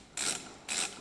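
Two brief scraping clicks sound close up as retaining clips are loosened on the circuit board of a 5-speed automatic transmission, evenly spaced about half a second apart.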